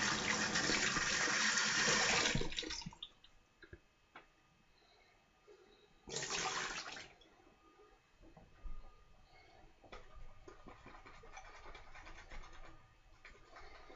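Water runs from a tap as a hand is rinsed beneath it, a steady close splashing that lasts about two seconds and stops, then returns briefly for another second, with quiet room noise between the bursts.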